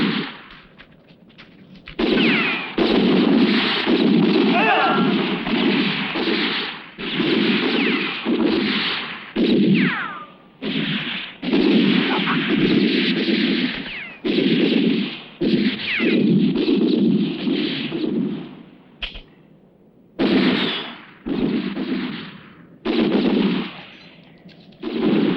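Gunfire in a spaghetti western shootout: loud, rapid bursts of shots in dense volleys with brief gaps, continuing for the whole stretch with no talk over it.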